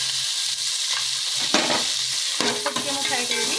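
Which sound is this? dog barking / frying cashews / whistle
frying cashews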